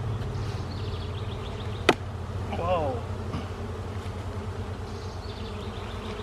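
Honeybees drone in a dense, continuous buzz from an opened beehive during an inspection, with one sharp click and a person's brief exclamation over the hum.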